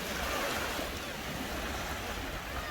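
Sea waves wash up the sand on a beach at Mamoura, making a steady, close rush of surf and water that fills the whole moment without a break.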